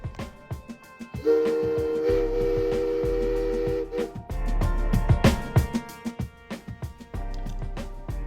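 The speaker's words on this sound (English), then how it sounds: "the railroad purchased a special whistle for number 3, a reproduction Pennsylvania 3-chime whistle" A reproduction Pennsylvania three-chime steam whistle on Beech Bottom Power Company locomotive No. 3 blows a sustained chord for about three seconds amid clanking, chuffing locomotive noise and rhythmic mechanical knocking.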